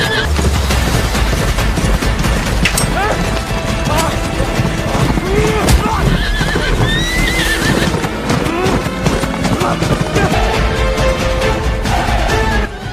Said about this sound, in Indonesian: Govind duel one by one bersama si Raj dari atas kuda.